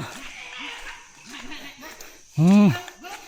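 A dog on a journey home gives one loud, close bark, with softer yips and whimpers before it, while people keep talking around it.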